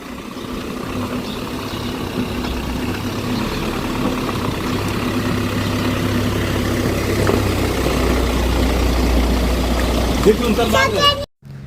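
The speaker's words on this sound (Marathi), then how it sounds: "तिने आत्ता झोपेतून गाडीचा आवाज ऐकताच उठली आहे" A vehicle engine idles with a steady low rumble throughout, close by and fairly loud, while someone talks over it, cutting off abruptly at the end.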